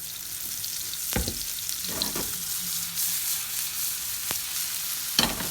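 A lentil patty fries in a little oil in a non-stick pan, giving a steady close sizzle with a few sharp pops and scraping stir sounds scattered throughout.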